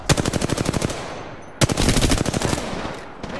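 Video game gunfire, with a burst of rapid automatic shots, then a brief pause, then a second sustained volley that tapers off. The shooting is loud and close, with no talking.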